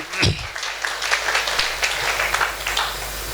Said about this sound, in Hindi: इनके लिए एक जोरदार तालियां होनी चाहिए